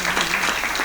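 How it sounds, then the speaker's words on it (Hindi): A short burst of dense audience clapping at a Hindi comic poetry gathering, loud and close, lasting under a second. "एक बार जोर से ताली आप बजा दो।"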